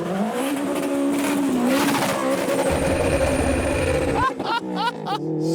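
A 450 bhp K20 turbo Toyota MR2 and a 250 bhp Mk2 Ford Fiesta launch hard off the line with smoking wheelspin, loud roaring engines and screeching tyres, while excited voices talk over the noise.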